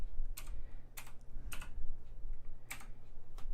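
Clicky keystrokes on an Eagle X 7300 LED-backlit mechanical gaming keyboard, a handful of separate taps spaced irregularly over a low steady hum, close and fairly quiet with no voices.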